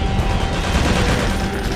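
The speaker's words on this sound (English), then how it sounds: "Rocket launcher." Rocket launcher fire in the video game Doom 2 played co-op with the Brutal mod, a dense, loud burst of explosive gunfire roar filling the short moment without pause.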